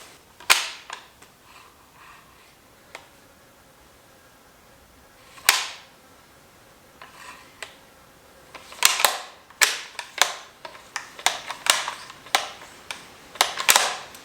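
A Tikka T3 rifle bolt with a microslicked finish being cycled, giving sharp metallic clacks and clicks, sparse at first and then a quick run of repeated close, crisp strokes, with no talking.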